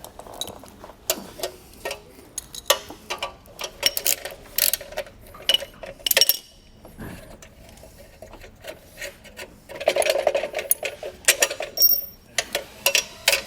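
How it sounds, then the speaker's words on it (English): Bolts come off the brackets of a Lippert scissor stabilizer jack on an RV with a hand ratchet, giving quick bursts of close clicking and mechanical rattling separated by short pauses. "I'm just gonna take these bolts off so I can get off our brackets"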